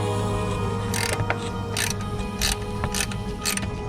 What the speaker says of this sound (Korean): 이 12mm 렌치로 요 잡고 있는 요 고정 볼트를 먼저 살살 풀어주세요